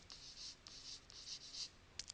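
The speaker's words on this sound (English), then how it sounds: "and I'm just going to write shadow" Pen writing on paper, a few short scratchy strokes in quick bursts with brief pauses between them, close and fairly faint with no talking.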